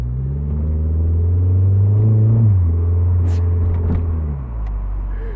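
Cabin drone of a 2008 Mitsubishi Eclipse Spyder, a fourth-generation convertible with a four-speed automatic, on a city commute; a steady low engine rumble rises slightly in pitch, then drops as the transmission shifts, with faint rustling inside.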